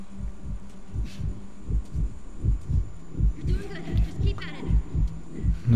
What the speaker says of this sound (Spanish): No sé si pueden notar de que es los latidos del corazón de Joel.